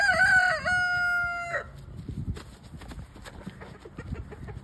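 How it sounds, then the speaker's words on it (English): A rooster on a farm crows one loud, close, drawn-out cock-a-doodle-doo, followed by quieter rustling and scattered farmyard noise. "Oh, look. A wild rooster."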